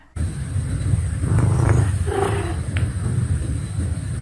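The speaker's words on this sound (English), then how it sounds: "She's a Maine Coon, and she makes sounds like..." A Maine Coon cat lets out a loud, drawn-out growling, roar-like vocalization. It starts abruptly and carries on with rising and falling tones.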